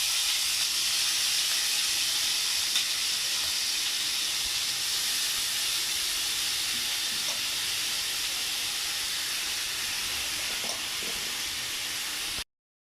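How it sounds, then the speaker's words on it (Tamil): Marinated chicken fries lightly in a little oil for butter chicken masala, giving a steady, even sizzling hiss that runs unbroken until it cuts off abruptly. "நம்ம ஊற வச்சுருக்க சிக்கன் வந்து கொஞ்சமாக எண்ணெய் ஊற்றிருக்கேன், அதில் போய் நம்ம வந்து பொரிச்சு எடுத்துக்கலாம் லேசாக."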